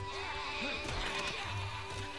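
Sheep bleating as they are slaughtered in the video game Overlord, several brief, wavering cries over continuous game ambience and a low background drone.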